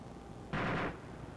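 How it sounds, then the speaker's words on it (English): A single short, loud burst of gunfire from a vehicle gunner in Arma 2, fairly close and standing alone against quiet background noise. "My gunner's having fun, just taking pot shots at people."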